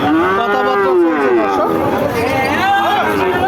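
A bull calf lets out a long, drawn-out moo nearby, with other lowing and crowd chatter blending in the background of a busy cattle market.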